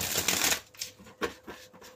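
Tarot cards are shuffled up close, with a dense riffling burst at first, then a few softer, separate slaps and flicks of cards.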